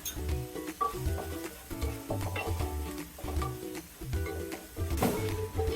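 Ginger-garlic paste with vegetables fries in a pan for veg pulao, a soft sizzle under repeated scraping and stirring strokes in an even rhythm, with no voices.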